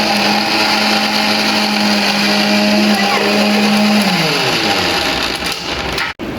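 A mixer grinder whirs loudly and steadily while grinding tamarind leaves, then its pitch drops as it winds down, followed by a brief thud near the end.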